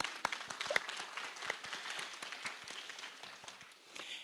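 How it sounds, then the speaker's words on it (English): Audience applause at an evening program on Indigenous perspectives, museums and Native American art: a steady wash of many hands clapping at moderate distance, with a few sharper individual claps standing out, continuing without pause for several seconds. "I just have to give them an applause."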